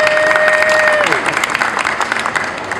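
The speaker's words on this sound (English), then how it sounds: "we can clap for the Grand Prix" A crowd applauds steadily at the welcome ceremony for the Baltimore Grand Prix, a dense, loud wash of clapping with a thin steady tone running through its first half.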